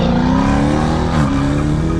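A modified Scion FR-S with a JDL turbo drives hard, its engine roaring loud and steady up close with a rising pitch as it accelerates, with no talk over it.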